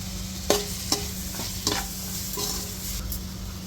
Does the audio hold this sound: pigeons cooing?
no